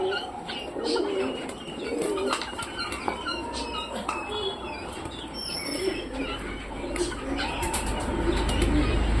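Madras pigeons coo softly amid squeaks and small chirps, with occasional wing flutters and a low rumbling background throughout.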